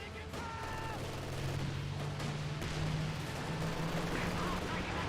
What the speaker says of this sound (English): Land mattress barrage back here.